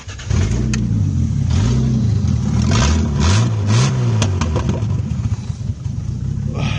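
A loud BMW E30 engine with an M20 B27 straight-six revs up and down repeatedly through a broken, torn-off exhaust, raw rattling roar, close and continuous.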